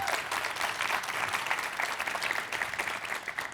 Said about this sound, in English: So we should give her another round of applause.